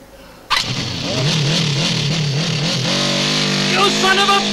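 A motorbike engine starts abruptly and then runs on, its revs wavering and climbing as it pulls away, loud and close, with a voice briefly heard alongside.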